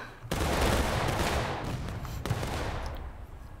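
Musket volley fire in the Civil War game War of Rights: a massed, loud crackle of many muskets bursting out at once, then a second ragged wave of shots rolling on under the smoke.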